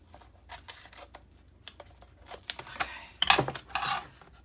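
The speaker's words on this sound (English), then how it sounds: "I'm trying to cut it. I got stuff sticking to my scissors." Quiet, close scissor snips and rubbing scrapes as sticky material clings to the blades, irregular and intermittent, with a louder crinkly burst near the end; no talking.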